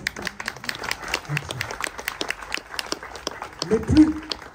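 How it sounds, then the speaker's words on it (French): An audience applauds at a French National Order of Merit medal ceremony: dense, steady clapping from a crowd fills the room, swelling slightly toward the end. "vous avez le droit d'applaudir si vous voulez."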